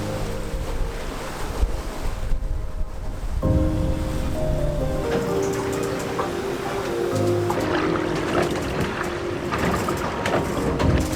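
A sailboat under sail with its engine off moves briskly through waves on the open English Channel, with continuous rushing water and wind buffeting the microphone, plus some creaks and rigging knocks.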